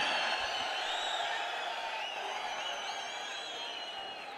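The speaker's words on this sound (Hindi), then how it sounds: "हम सबको जोरदार तालियों से आइए स्वागत करें।" A large crowd in a lit-up Delhi stadium at a political event cheers and applauds. A broad, roaring wash of voices and clapping stays loud and continuous, with a few whoops rising above it, and eases slightly toward the end.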